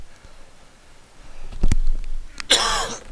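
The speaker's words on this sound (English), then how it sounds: "Sorry about all the coughing, guys." A person gives a few harsh, close coughs, with a couple of short throat-clearing bursts and a louder final cough, over a quiet room background.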